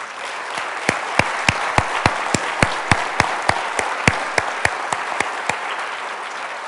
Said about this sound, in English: we should all give ourselves a huge round of applause